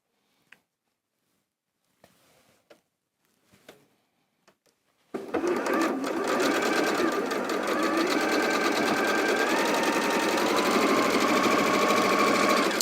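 After several seconds of near silence with a few soft clicks, a sewing machine starts stitching quilt block strips and runs in a steady, continuous, close-up whir until the end.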